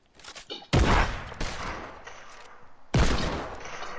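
Bursts of gunfire in the Fortnite video game crack out in loud volleys, with a sharp opening salvo followed by rattling shots, a pause, and then another heavy burst near the end.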